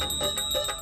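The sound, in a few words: small bells hanging from a dhoti jingling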